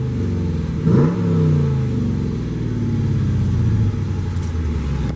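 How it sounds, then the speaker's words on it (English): A 2017 Dodge Challenger R/T T/A with a six-speed manual fires up with a sharp rev, then settles into a loud, lumpy V8 idle close by. "you can hear that beautiful sound this engine makes."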